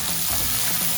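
Chicken seasoned with pepper browns in a pan, giving a loud, steady, close sizzle throughout with faint stirring scrapes underneath.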